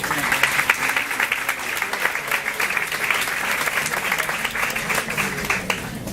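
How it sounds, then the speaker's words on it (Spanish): Audience applauding a speaker named Natalie as she takes the stage for a talk, a dense, steady wash of many hands clapping at moderate distance throughout, with no voices over it. "Le damos un fuerte aplauso, por favor,"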